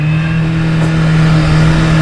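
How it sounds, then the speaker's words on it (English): A motorcycle engine holds a loud, steady drone close to the rider, its pitch barely changing across two seconds of continuous running. "I'm just going to give you a taste of how fast it can accelerate."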